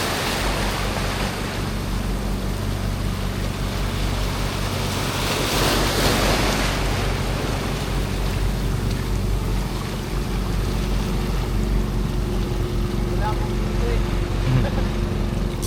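Steady rumble of a fishing boat moving over the sea, with wind and surf washing across the whole stretch; a louder swell of noise rises midway.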